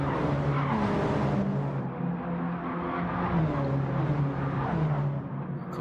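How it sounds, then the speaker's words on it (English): Mini race cars sliding sideways through corners during an evening league race at a Tokyo circuit, engines droning loudly and continuously with shifting revs and tyre noise throughout. "It just sounds like cars are going backwards when these minis drive."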